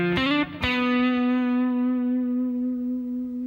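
Electric guitar with distortion playing a short D Dorian phrase, a few quick picked notes and a slide that settle into one long sustained note, ringing close and clear with no voices.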